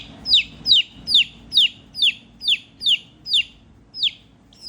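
Young country chicks give a run of shrill, evenly spaced peeps, about ten sharp falling cries one after another, close and clear over a quiet background.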